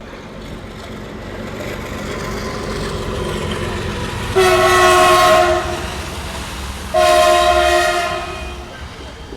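The Sabarmati Haridwar special train pulls into Palanpur Junction with a rumbling run, and its horn blasts twice, loud and close, each blast lasting about a second or two over the steady rail noise.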